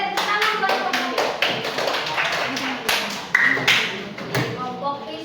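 A small group claps for Group B in a classroom, a loose burst of hand claps with uneven rhythm, some sharper taps near the end, and voices talking faintly underneath.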